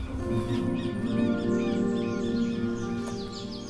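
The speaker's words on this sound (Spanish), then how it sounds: "pues lindo el canto de pájaro" Birds calling on a ranch in spring, several short chirps and caws scattered over a dense, steady background of tonal hum and layered sound.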